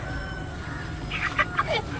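Chickens bought at a market cluck in a few short bursts over a steady background hum, close by and moderately loud, with faint talk around them.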